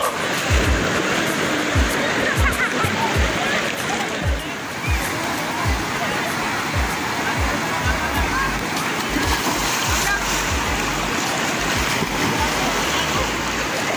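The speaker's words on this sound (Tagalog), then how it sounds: "At magbabad sa malamig na tubig." Water splashes continuously and loudly in a cold river at Bagsit River, with rushing flow and scattered close splashes, and a person talks over part of it.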